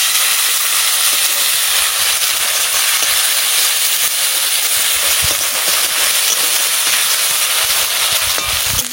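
Spice paste hitting a hot pan, a loud, continuous hissing sizzle that holds steady and close throughout, with no talk over it.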